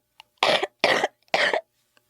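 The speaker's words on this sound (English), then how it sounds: "that sounds like a nasty cough" Three harsh, evenly spaced coughs from a person with a nasty cough lasting a few days, close and loud in a quiet room.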